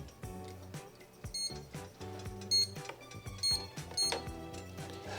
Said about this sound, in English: now we're going to go ahead and set our timer for 2 minutes